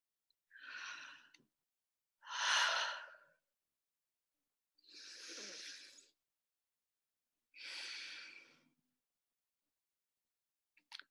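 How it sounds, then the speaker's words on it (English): Deep, slow breaths sound close and quiet, four long airy inhales or exhales evenly spaced with silence between them, with no talking. "we can take a deep breath"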